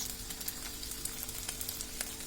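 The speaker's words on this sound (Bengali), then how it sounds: "এখন এর মধ্যে আমি 1 চামচ ভরে আমি এখানে সয়া সসটা দিয়ে দিচ্ছি।" Soy sauce going into a hot pan for spicy egg roti noodles, a faint continuous sizzle with light crackling and a few small clicks, close and quiet.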